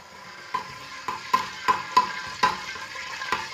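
Whole cumin seeds roasting in hot oil for a mutton masala, a close sizzle punctuated by about eight sharp, regular clinks and scrapes of a spoon against the pan.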